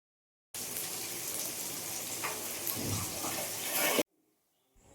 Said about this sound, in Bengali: পেঁয়াজটা কিন্তু এভাবে ভালো করে অনেকক্ষণ ধরে ভাজতে হবে একদম লাল লাল করে পেঁয়াজটাকে ভেজে নিতে হবে